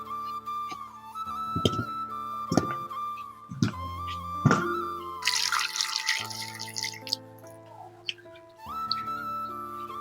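Peeled fufu ingredients rinsed in water at a sink: steady running tap water with splashing, drips and knocks, a louder bright rush of water midway, no talking.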